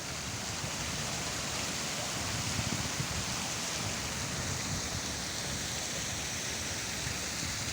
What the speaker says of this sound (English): It's this waterfall with its water mill over there.